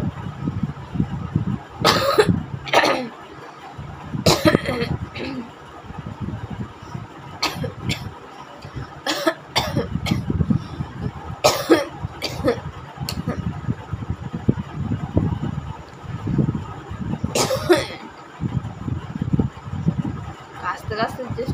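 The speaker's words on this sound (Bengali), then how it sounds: "তো রিয়েল কাশি এখন হচ্ছে না, তো যতটা পারছি ভেতর থেকে আনার চেষ্টা করছি" Repeated forced coughs, deliberately pushed out during a coughing challenge, come in loud bursts close to the microphone, separated by bits of talk and breathing over a steady fan-like hum.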